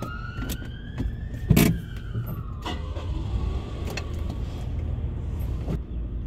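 A car drives along a city road in traffic, with steady tire and engine rumble from inside the cabin, a few sharp clicks and bumps, and a passing siren-like tone sweeping faintly in the background.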